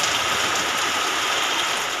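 Torrential monsoon rain pours down in a dense, steady roar with no pauses or voices, loud and close throughout.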